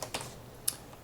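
A few quick keystrokes tap on a computer keyboard, three or four crisp clicks close up within about a second, with no talking.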